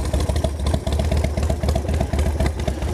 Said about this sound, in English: on the 2001 Custom Chrome Industries Softail kit bike